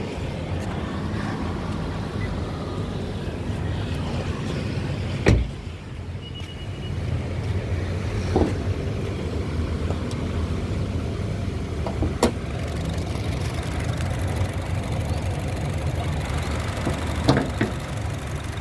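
A 1500 cc engine in a 2018 Honda HR-V E automatic idles with the hood open, a low, even hum running steadily throughout, broken by a few sharp clicks and knocks.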